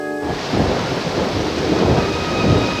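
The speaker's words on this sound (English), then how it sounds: "If this rain doesn't let up, we're going to be completely underwater." Heavy monsoon rain pours steadily with deep rumbling thunder rolling underneath, a dense, continuous wash of sound, in a cartoon.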